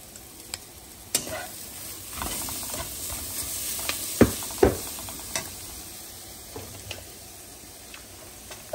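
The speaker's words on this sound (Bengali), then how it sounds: "সব মশলা ভালো করে কষিয়ে নিচ্ছে এখন" Spices being sautéed in a pan while cooking mulo chingri posto, radish and prawn with poppy seed: a soft, steady sizzle with scattered scraping and clinking stirring strokes and a few sharper ticks.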